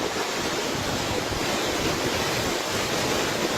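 Heavy rain driven by strong wind during a storm in western Sumedang, West Java, a dense, steady roar of broadband noise with gusty low rumble, loud and continuous throughout without voices.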